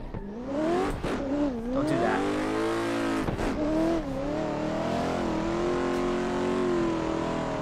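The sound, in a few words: Toyota Supra drift car engine revving on track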